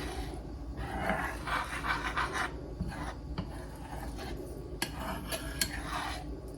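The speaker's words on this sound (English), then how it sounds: "we're going to stir these eggs" A utensil stirs scrambled eggs cooking slowly in a pan, giving faint rasping scrapes and light metallic clinks in uneven strokes, close but quiet, with no talking.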